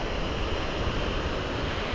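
Sea waves wash steadily onto the quiet, uncrowded Arossim Beach, a continuous broadband surf roar with no voices over it.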